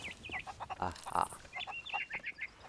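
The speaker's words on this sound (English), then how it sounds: "Let's go find a mighty chicken." Chicken clucking in the Sea of Thieves-style pirate game on Melee Island, a string of short, quick clucks and squawks, moderately close, with a brief voice-like burst in the middle.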